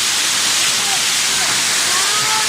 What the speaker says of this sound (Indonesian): Ini air langsung dari gunung, dari atas.